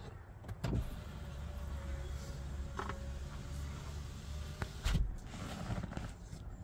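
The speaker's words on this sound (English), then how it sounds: "So see, this window is going closed by itself." A car's power window closes by itself, a faint steady motor hum running for several seconds with a couple of soft clunks near the start and end.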